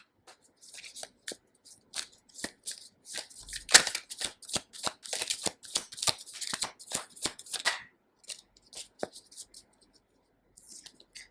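Tarot cards shuffled and flipped by hand, a long run of quick crisp riffling snaps and slaps close up, densest in the middle, then a few scattered flicks near the end.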